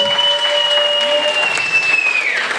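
Audience applause at a travesty show in a Mělník venue, a dense burst of clapping from the crowd under a sustained tonal sound, close and steady throughout.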